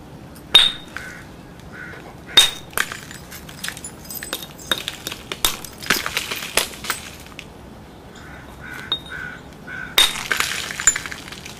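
Stone being knapped with sharp, clinking strikes that shatter flakes off a cracked rock, irregular hits spread across the stretch, some in quick clusters, close and crisp.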